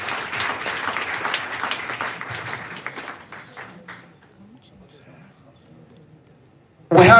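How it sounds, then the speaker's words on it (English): An audience at a university TV channel launch event claps in a full, steady burst that fades out over a few seconds. Quiet murmuring follows, then a sudden loud noise cuts in at the very end. "Please round of applause."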